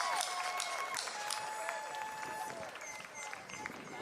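Crowd applause at a Southern University and A&M College fall commencement ceremony, moderate clapping spread through a large space under scattered voices and background tones.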